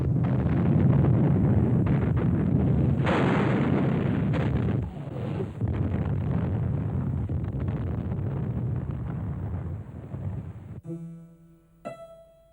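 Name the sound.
artillery guns pounding a city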